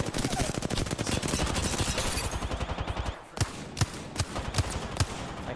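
Gunfire in Apex Legends on Xbox: rapid automatic fire in a steady stream for about three seconds, then a short pause and several loud, spaced single shots. The shots are close and loud.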